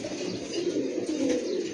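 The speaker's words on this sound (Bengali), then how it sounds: "রকেট লাইনের কবুতর এটা।" A Rocket-line racing pigeon coos close by in a loft, a low, throaty rolling coo repeated in a steady murmur.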